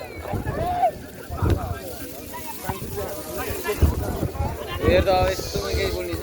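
Gusty wind buffets the microphone in rolling bursts, with water sloshing around a small boat and voices talking throughout.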